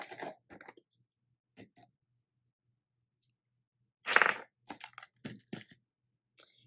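Scissors cutting a length of ribbon at a crafting table, a few scattered snips and rustles close by, with one louder burst of handling noise in an otherwise quiet room.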